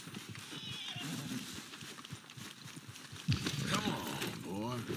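A horse whinnies near the end of a clip from the video game Red Dead Redemption 2, a rising, wavering neigh, after a stretch of background noise and faint hoofbeats.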